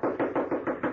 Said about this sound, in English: I knocked on the stable door.